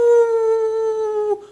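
A voice imitates a dog howling, one sustained, steady tone held loud and close for over a second before it drops off at the end.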